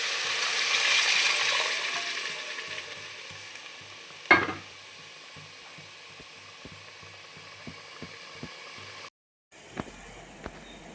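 Horse gram water poured into hot fried oil for mutton keema sambar sets off a strong hiss that swells early, then settles into a steady low sizzle with a sharp burst and a few light clinks of a utensil.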